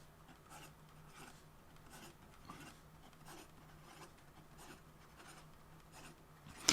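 A medium-nib fountain pen scratches quickly across paper in a steady series of short, soft strokes, close and quiet against a faint background hum, ending in a small tap.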